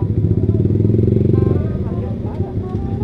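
Motorcycle engines idle and rumble loudly nearby at a Sunday morning group ride gathering of motovloggers, a steady throbbing drone that fades slightly toward the end as someone talks over it.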